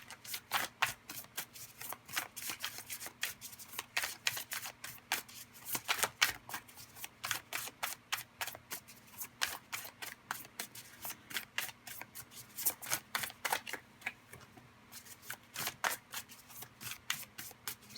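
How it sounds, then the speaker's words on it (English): Radiant Tarot cards being shuffled by hand, a steady run of crisp riffling and slapping bursts close up, repeating rhythmically throughout without talk. "let's see if we can get a few cards here from the Radiant Tarot"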